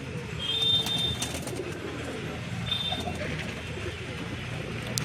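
A Kaldum pigeon gives low, soft coos, faint and steady beneath a quiet background hum with a couple of thin high tones.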